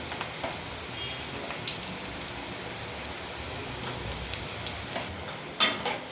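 Ragi pakoda batter frying in hot oil, a steady fine crackle and hiss throughout with a few sharper pops, close and alone with no voices.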